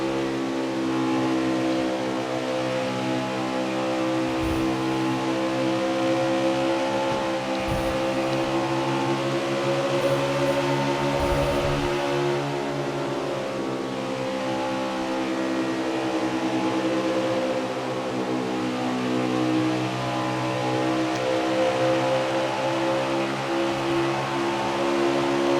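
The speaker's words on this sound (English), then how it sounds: "these engines here in NASCAR Heat 4, if there's anything that you can say good about this game, is the engine sound quality" NASCAR race car engines in the video game NASCAR Heat 4 drone and rev continuously at Kansas Speedway, a loud sustained harmonic roar that rises and falls in pitch over about half a minute, with a few brief low thumps.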